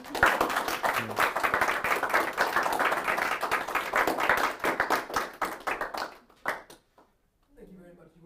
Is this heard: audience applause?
yes